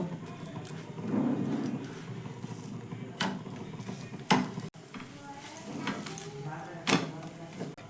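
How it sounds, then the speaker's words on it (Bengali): Wheat flour tiffin frying in a little oil on both sides gives a low, moderate sizzle. Scrapes and sharp knocks of a turner against the pan break in now and then, with faint background sound and no clear talk. "অল্প একটু তেল দিয়ে আবারও দুই পিঠ একটু লাল লাল করে ভেজে নেব"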